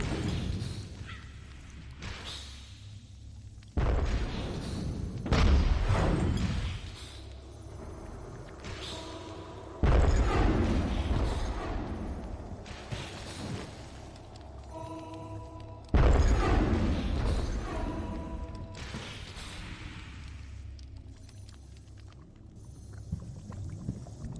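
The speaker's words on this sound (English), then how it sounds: "So many cannons!" Cannons fire from a heavily defended bridge in the game Dungeon Keeper 2: three heavy booming blasts land a few seconds apart, each loud and reverberant, over continuous game music and ambience.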